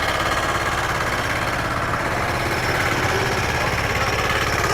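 A tractor-mounted reaper for cutting wheat, maize and sorghum runs continuously, its engine giving a loud, steady, clattering drone with heavy vibration throughout.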